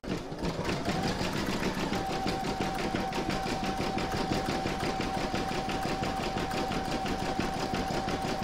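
An embroidery machine stitches the bottom section of an in-the-hoop mandala placemat, its rapid even needle chatter running steadily and close for the whole stretch with a faint constant whine underneath and no talking.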